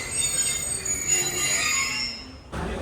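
Train coaches roll along the rails in Sindh with a loud, continuous metallic squeal of wheels over a low rumble, the screech steady and near before a sudden shift in tone toward the end.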